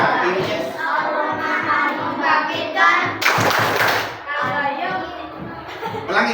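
Children clapping hands in rhythm during an Asmaul Husna clapping chant in a fifth-grade classroom, steady claps mixed with a burst of applause, under continuous chanting and talk.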